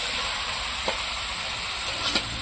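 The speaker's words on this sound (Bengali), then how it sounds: "প্রথমে আমি হলুদ লবণ কিছুই দেবো না ভালো করে লাউটা একটুখানি কষিয়ে নেবো" Chunks of bottle gourd sautéing in oil, without salt or turmeric yet, crackle in a steady close sizzle with a couple of light stirring taps.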